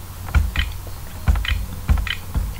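Typing on a worn, poorly working computer keyboard comes through as close, crisp clicks in small bursts of two or three keystrokes, spaced by short pauses.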